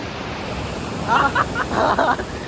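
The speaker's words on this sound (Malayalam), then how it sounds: "അടുത്ത മഴയാണ്, അടുത്ത മഴ" Heavy rain falls near a waterfall as a steady broadband hiss, with brief voices talking over it midway.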